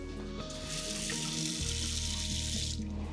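Water runs steadily from a tap into the small sink of a compact, space-themed tiny house, a continuous close hiss lasting the full few seconds with no talk over it.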